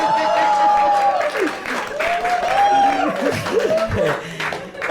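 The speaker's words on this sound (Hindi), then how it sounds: "लड़की ताली बजा रही है इसमें।" An audience at a stand-up comedy show applauds in a steady patter of clapping that runs through the whole stretch, partly masked by someone talking over it.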